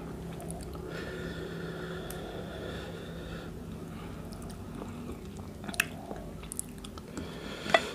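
Pickled egg-bearing crab being eaten close to the microphone, with soft wet bites and steady chewing, squelches and a few sharper crunchy clicks near the end.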